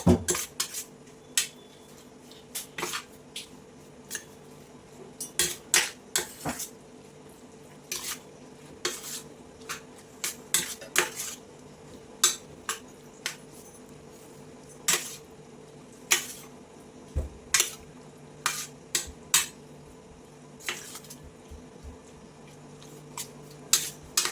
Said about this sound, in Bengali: আর এখানে আদা রসুন আর লঙ্কা বাটা আছে, এগুলোকে দিয়ে আমি একটু মাখিয়ে রাখবো।